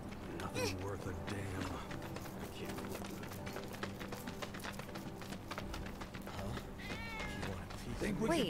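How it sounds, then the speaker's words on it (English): A cat meows repeatedly in the Final Fantasy VII Remake slum setting, rising, wavering calls heard briefly at a moderate level over continuous game music and background ambience. "I think one of Betty's cats might be nearby"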